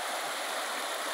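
Muddy, fresh runoff water rushes along the Riacho Ipueirinha stream in a wet season, making a close, steady, hissing flow with no pauses and no talk.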